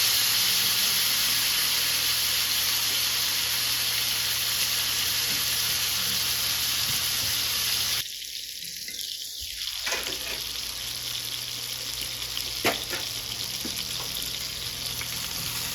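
A quesadilla sizzles and fries in a warm pan at home, a steady broadband hiss that runs loud for several seconds, drops to a quieter crackle, then carries on softer with small pops.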